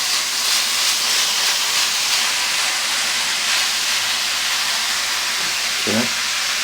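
Ground beef browns in olive oil with a loud, constant hiss of sizzling close by. A brief low clunk, like a utensil against the pan, comes near the end, with no talking.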